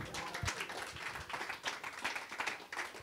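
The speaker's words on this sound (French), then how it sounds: "L'applaudissement pour Dieu, s'il vous plaît." Scattered, fairly faint applause from a small congregation at a Saturday church youth programme, uneven claps rising and falling over a few seconds with no talking.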